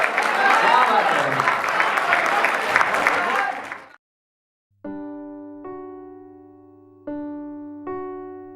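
Loud, dense applause from an audience at a mushaira poetry recital fills about four seconds, then cuts to silence before a few sustained musical notes sound alone.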